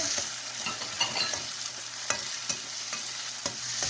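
Chopped tomatoes sizzle and fry in a pan, with a steady crackle and occasional scraping stirs, close and moderately loud, with no voices.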